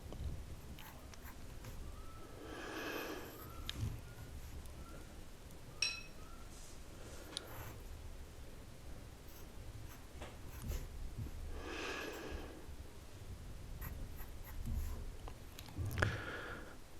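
A pencil drawing faces on paper makes quiet, close scratchy strokes that come in short bursts with pauses between them, over a very soft background.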